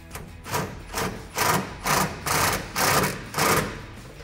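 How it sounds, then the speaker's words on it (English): Repeated ratcheting bursts from a socket wrench tightening a 10 mm bolt on a 2021–2022 Ford F-150 exhaust install, about seven evenly spaced rasping strokes, close and fairly loud with no talking. "then we'll take our 10 millimeter socket to tighten that down"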